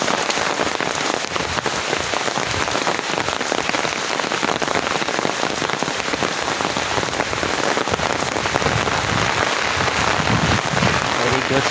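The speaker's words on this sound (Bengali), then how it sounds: "ভালোই হচ্ছে বৃষ্টি," Steady rain falls outdoors during a walk through the wet countryside, a dense, continuous close patter on surfaces that holds the same loud level throughout.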